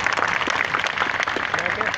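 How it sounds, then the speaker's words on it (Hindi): Applause at a TMA employees' iftar dinner in Attock City, Pakistan, a dense steady patter of many hands clapping throughout, with voices talking over it. "जी आमर साहब के लिए भरपूर तालियां जी, एक दफा और"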